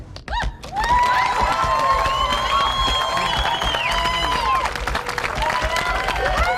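An audience welcomes a school musical cast with broad applause and cheering that swells and holds steady, mixed with excited shouts and whistles from the crowd.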